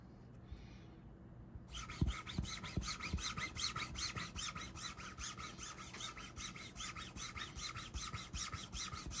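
Rubber block cleaner rubbing across a carbon fiber pickleball paddle face, a quick, rhythmic rasping scrub repeated in fast even strokes after a brief pause, close and fairly quiet, with no speech.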